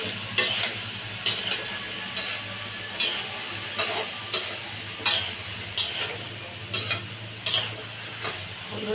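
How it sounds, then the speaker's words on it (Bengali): Spices for chola aloo bhuna stirred and fried in a pan, with about a dozen regular scraping strokes of the spoon over a steady low sizzle, close up and with no talking. "মশলা দিয়ে ভালো করে মিশিয়ে নেব।"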